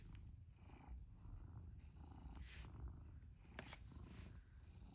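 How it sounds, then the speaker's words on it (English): A cat purring softly and steadily up close, its rhythmic rumble rising and falling with each breath, with no talking. "Can you hear him purring?"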